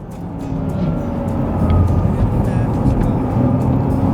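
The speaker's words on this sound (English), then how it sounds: "So as we accelerate, listen, gear shift." Porsche Taycan electric car accelerating and slowing on mountain roads, a steady loud drone of motor and road noise inside the cabin with subtle shifts in tone, heard without talk.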